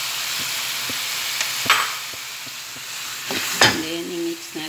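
Tomatoes and green chilies cooking in a pan for chicken with capsicum sizzle steadily, broken by a few louder stirring scrapes and clatters near the end; no one speaks.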